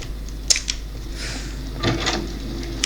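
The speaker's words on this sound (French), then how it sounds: "J'ai ouvert la porte, c'est bon." In the Roblox horror game Doors, a door opens with a brief mechanical clack followed by a soft sliding creak, close and moderately loud over a low steady hum.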